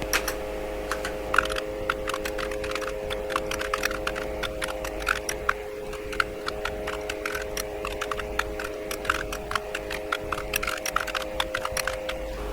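Steady run of key presses on a computer keyboard while a short graphics program is entered on an HP 9845B desktop computer under repair, with a constant electrical hum throughout and no speech.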